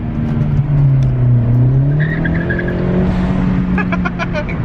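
A Honda Civic Si fitted with a Type-R exhaust pulls hard from inside the cabin, its engine note droning and rising through the revs, loud and close, with a faint tire chirp near the end.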